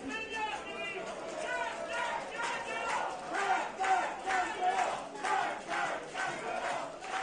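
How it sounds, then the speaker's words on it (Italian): Pontedera football supporters in the stadium chant and sing in loud, rhythmic collective bursts, a massed crowd roar rising and falling steadily throughout, with a commentator's voice faintly over the top. "Continuano intanto a far feste i tifosi del Pontedera nonostante il risultato."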